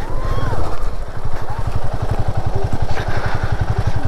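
Royal Enfield Himalayan 450 motorcycle struggling across a rocky water crossing on a Spiti Valley road, its engine chugging loudly and close in a fast, pulsing rhythm, with clattering and splashing over the rumble.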